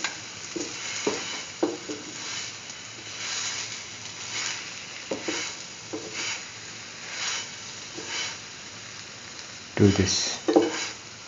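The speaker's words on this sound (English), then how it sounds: "move the sandwich around so that it does not stick to the pan" A potato mustard chickpea flour sandwich sizzles in a frying pan, with a steady hiss and periodic scraping as it is moved around, and a voice speaks briefly over it.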